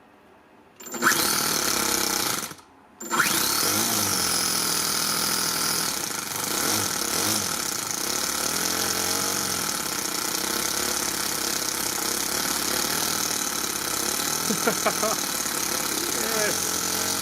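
A small, basically stock engine with a return spring sputters and catches after a brief silence, then runs steadily and loudly at idle, a rough continuous drone with speech faintly mixed in.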